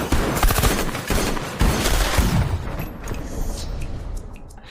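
A loud burst of rapid gunfire from the film Baby Driver (2017) cracks out, dense shots in quick succession that thin out and fade over a few seconds.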